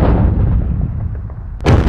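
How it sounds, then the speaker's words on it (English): Artillery fire in the Sealion '40 wargame: a deep rumbling boom decays over about a second and a half, then a second sharp blast hits near the end, loud and alone. "I guess we're going to be dropping artillery on their heads"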